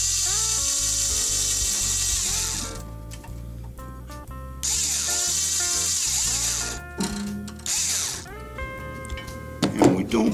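A motorized string winder whirs in short buzzing bursts as it winds a string onto a steel-string acoustic guitar, heard up close over steady background music.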